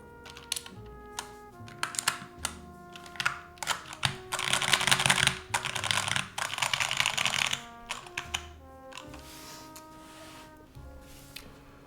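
Random keys are pressed on an NK65 mechanical keyboard, producing fast, close clicky keystrokes in bursts with a dense flurry midway, over faint background music.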